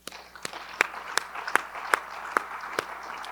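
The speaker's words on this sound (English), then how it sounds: "Applaud yourselves," A conference audience at a commercial real estate and development event applauds, with sharp claps in a steady rhythm over a soft wash of scattered clapping, moderately distant and without speech.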